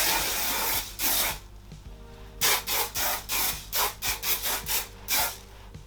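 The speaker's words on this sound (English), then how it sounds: "I am going to apply some Stronghold hairspray, which is going to hold the definition in place." Stronghold hairspray is sprayed onto curly hair in a long opening hiss and then a rapid series of short, close bursts, loud and alone without talk.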